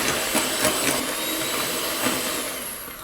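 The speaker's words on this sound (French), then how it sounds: "là il y a trop de bruit avec le robot" A kitchen robot mixer whirs loudly and steadily, blending apple cake batter made with yogurt, with a constant motor drone and faint rhythmic knocks, and no talking.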